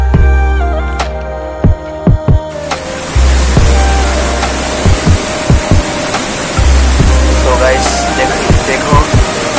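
Floodwater after heavy rain in Haflong, Assam, rushes loudly and steadily in a dense roar, broken by a few sharp knocks and handling thumps close to the microphone.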